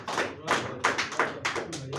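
An audience claps after a Hindi poetry recital in irregular bursts of several quick, fairly close claps with brief gaps, and no speech over them.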